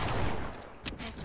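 A gunshot in the video game Fortnite, with short bursts of gunfire over a dense background of game noise and no clear pauses between sounds.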